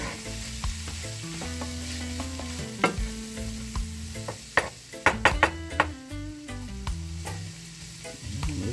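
Vegetables sizzle steadily in a pan for chicken fried rice while a utensil stirs them, with clustered knocks and scrapes against the pan, close and fairly quiet.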